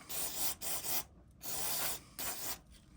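Several bursts of hissing spray from an aerosol cleaner can onto a Smith & Wesson Shield Plus pistol, short and close, separated by brief quiet pauses.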